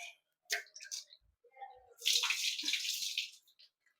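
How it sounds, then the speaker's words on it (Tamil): Rice being washed in water at a kitchen sink, with short drips and splashes followed by a steadier rush of water sloshing through the grains for about two seconds, close and moderately loud. "அரிசி கழுவுறேங்க"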